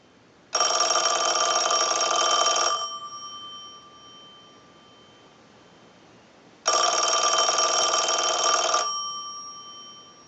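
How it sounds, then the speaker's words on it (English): A Western Electric Princess telephone's bell rings in two long bursts of about two seconds each, loud and close, separated by a pause as the ring cycle repeats. "send a ring cycle like you were getting a call"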